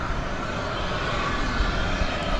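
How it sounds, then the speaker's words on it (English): An American Airlines Boeing 737-800 taking off at DFW Airport, a steady broadband jet roar heard from a distance, constant in level with no clear rise or fade. "we've got an American Airlines 737-800 taking off for McAllen, Texas"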